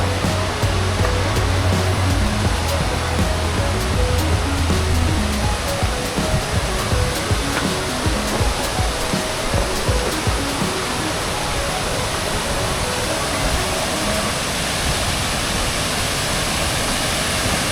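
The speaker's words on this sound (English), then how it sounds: "I can physically hear the waterfalls" A steady, loud roar of rushing water fills the scene, broad and constant like a nearby waterfall, with no break in the noise.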